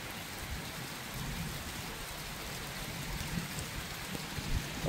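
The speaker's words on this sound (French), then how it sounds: "Bon, c'est un sympathique petit orage." Steady heavy rain from a small thunderstorm cell pours continuously at close range, a dense broadband hiss with faint low rumbles of thunder beneath and no voices.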